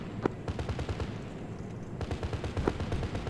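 Rapid bursts of helicopter gun fire in ArmA 3, a fast rhythmic stream of sharp reports over a loud rotor-like rumble, with a brief lull in the middle before the firing resumes.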